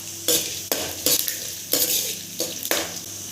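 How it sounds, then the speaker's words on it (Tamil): Nuts and roasted gram frying in hot oil in a pan, a steady sizzle broken by several close scraping stirs of a spoon against the pan. "இப்போ இதை எல்லாத்தையுமே இந்த எண்ணெயில் கொட்டி ஃப்ரை பண்ணிக்கலாம்"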